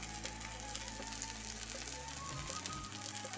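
Washed chicken meat, without any turmeric, goes into a hot pan and sizzles steadily, a dense, even frying hiss close by that carries on without pause and with no talk.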